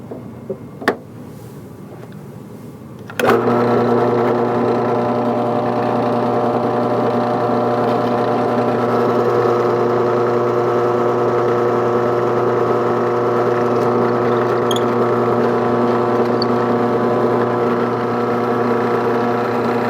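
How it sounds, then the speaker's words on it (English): After a couple of small knocks, a power drill with a Forstner bit starts with a sharp attack and runs steadily at high speed through wood, a loud sustained whine until the end. "we just simply let the Forstner find the pilot hole and then drill through from this side"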